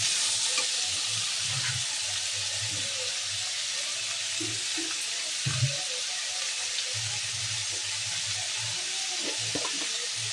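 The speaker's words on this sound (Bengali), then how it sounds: "এবার এর মধ্যে দিয়ে একটু সামান্য নাড়াচাড়া করে নিই" Khoira fish curry sizzles steadily in a pan while it is stirred, giving a constant frying hiss with soft, irregular clinks and scrapes of the spoon, and no talking.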